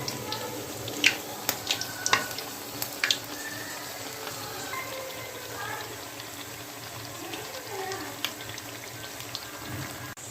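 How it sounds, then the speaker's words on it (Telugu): Corn vadas fry in hot oil with a steady, close sizzle and bubbling throughout, broken by a few sharp pops and crackles near the start. "ఇలా గోల్డెన్ కలర్ వచ్చేదాకా వేయించుకొని వీటిని తీద్దామండి"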